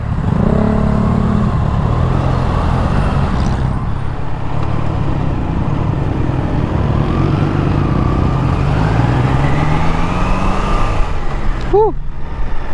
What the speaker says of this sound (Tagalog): traffic din pala sa Kalamba pag ganitong oras